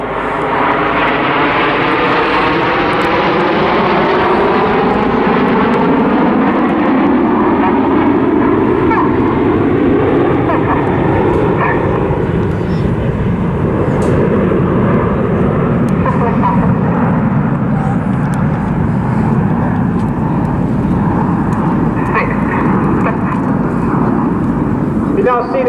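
Red Arrows jets accelerate in close formation at the Southport Airshow 2024, a loud, continuous roar with slowly sweeping, swelling tones that runs the whole time beneath a commentator's voice.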